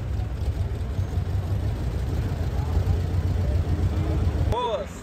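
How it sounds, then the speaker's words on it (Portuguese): A Volkswagen Brasília exhaust rumbles steadily at close range, a low continuous engine drone with a brief cutoff near the end, while people talk over it. "olha o escape da Brasília, velho"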